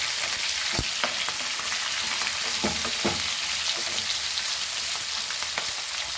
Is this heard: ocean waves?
no